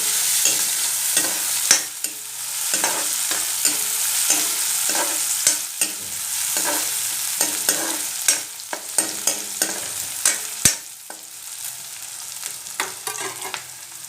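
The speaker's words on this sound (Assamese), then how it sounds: "ইয়াত মই লৰাম আৰু অলপ দেৰি ৰঙা হোৱালৈকে মই ভাজিম।" Onions fry in a pan with a steady sizzle while a spoon stirs and scrapes them in irregular clicks, close and clear with no talking.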